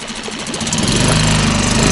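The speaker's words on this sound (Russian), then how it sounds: "Как и у меня моторка Suzuki 6." Suzuki 6 hp outboard motor on a fishing boat starting up from a few sputters into a steady, loud, buzzing run with a rapid knocking pulse, close by and without voices.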